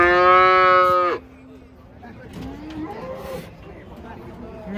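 One of a group of giant cows unloaded from a truck at the Celok market lets out a long, loud, close moo, then the scene drops to murmuring crowd chatter and background market noise.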